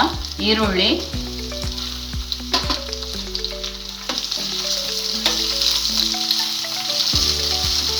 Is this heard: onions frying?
yes